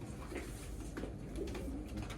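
Pigeon cooing at a bird show and auction, a steady low murmur of coos amid a continuous crowded hall din, fairly faint and without a clear standout call.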